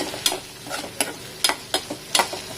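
Grated coconut being stirred and sautéed in a pan for a Tirunelveli-style egg curry, with quiet sizzling broken by a handful of sharp, irregular scraping strokes of the spoon against the pan.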